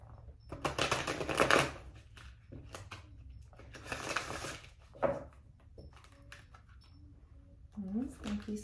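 Tarot deck, Tarot of the Heart, being shuffled by hand in a couple of brisk riffling bursts close to the microphone, with quieter gaps between them and a voice speaking softly.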